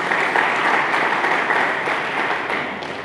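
An Indonesian church congregation claps together during a Sunday sermon, a full, steady roar of applause that eases slightly as it ends.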